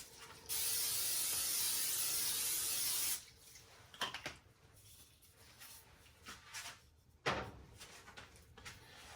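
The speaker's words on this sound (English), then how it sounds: "We're going to spray both of our pans." A loud continuous spray of butter cooking spray hisses for about two and a half seconds onto two cake pans, followed by quiet clinks and light kitchen handling sounds.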